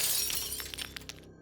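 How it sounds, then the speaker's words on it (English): A light bulb bursts overhead and its glass shatters, a quick spray of bright crackling and tinkling fragments that thins out and stops abruptly. "That's when the light bulb above us exploded"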